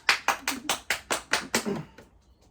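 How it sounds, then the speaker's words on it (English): Wedding guests at a ceremony clap in unison, about eight sharp, evenly spaced claps close by that stop after roughly two seconds, followed by quiet. "And clap."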